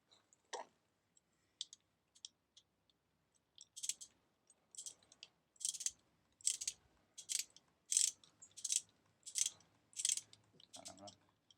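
Bolts are tightened while a Tongsheng TSDZ2 250W mid drive is fitted to a road racing bike. Faint, isolated clicks give way to a rhythmic series of sharp ratcheting bursts, close and quiet.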